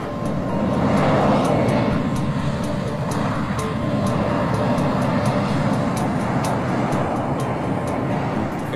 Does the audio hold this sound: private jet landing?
yes